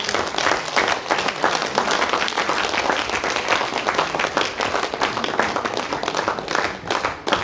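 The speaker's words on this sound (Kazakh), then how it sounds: "ағамызға деген қошаметтеріңіз таусылмасын" An audience at a poetry evening in Inder applauds warmly, a dense and steady round of many hands clapping that holds from start to finish without a break.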